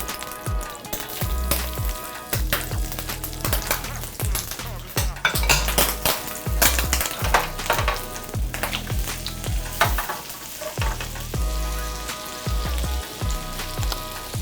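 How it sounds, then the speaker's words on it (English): Garlic sizzles in butter in a pan, a loud, continuous crackle and hiss close by, broken by rhythmic scrapes and knocks of a utensil stirring against the pan. "Got my butter. I'm gonna go ahead and add my garlic."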